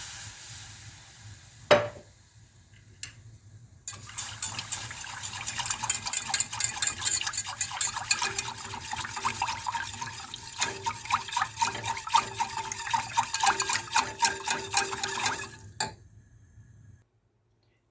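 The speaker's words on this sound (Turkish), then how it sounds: "Şimdi ilk önce 3 su bardağı süt koyacağım." Milk is poured into a béchamel sauce for a minced-meat oven bake and stirred, giving a steady liquid trickle and swishing that runs for about twelve seconds after a sharp knock, then stops.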